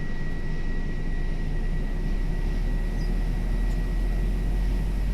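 A simulated Airbus A319's number 2 engine spools up in a flight simulator, a steady loud low rumble and whine that holds even throughout, with no speech.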